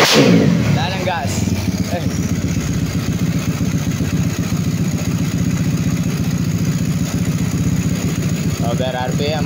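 A 212cc four-valve small engine with a 66mm bore and forged connecting rod running loud and close, a steady buzzing drone with slight rises in revs, while someone talks over it.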